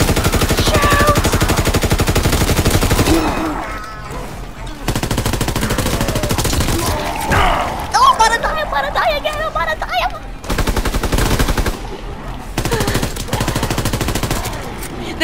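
Automatic machine gun fire in a WW2 shooter video game, loud and dense bursts repeating through most of the stretch with brief pauses, while a voice talks over parts of it.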